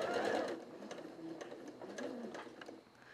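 A sewing machine stitching cloth, a steady close whirring run of rapid needle clatter at moderate volume, easing slightly toward the end.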